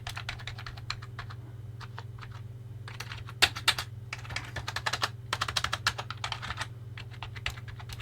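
Keys are pressed on a Sinclair QL home computer keyboard, some of them not working: close, irregular clicky taps in bursts and single strokes over a steady low electrical hum, with no speech.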